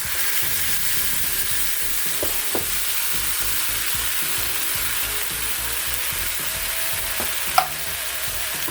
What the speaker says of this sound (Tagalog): I-simmer lang natin siya guys ng 3 to 6 minutes para ma-reduce yung sauce ng or yung tomato sauce